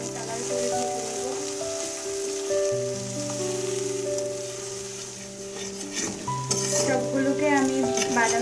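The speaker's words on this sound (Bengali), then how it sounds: "সবগুলোকে আমি বাদামি কালার করে ভেজে নিচ্ছি।" Sliced onions and green chilies fry in a pan until browned, ready for spiced masoor lentils. A soft, steady crackling hiss sits under prominent background music, growing a little louder with scattered spits toward the end.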